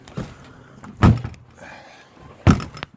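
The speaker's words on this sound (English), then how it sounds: "The wind blew this door open." Wind-blown barn door on a farm during a snowstorm, giving three separate heavy thuds and rattles, each a loud knock with a short scrape after it.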